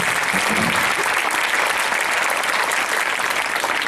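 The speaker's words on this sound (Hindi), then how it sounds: "उन्हें जोरदार से मैं ताली बजा के उन्हें प्रभु को धन्यवाद।" A church congregation at a Hindi worship service applauds in thanks, producing a full, continuous roar of clapping that stays even and loud from start to finish without speech.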